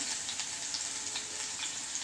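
Green chillies frying in hot oil in a kadhai, giving a steady, dense sizzle that holds at an even, fairly loud level throughout with no voices.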